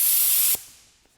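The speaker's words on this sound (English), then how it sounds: "I am using the Hitachi quiet compressor." A Hitachi quiet 1-gallon air compressor hisses loudly and steadily, then cuts off abruptly and the sound decays away, leaving a faint tail with one small click.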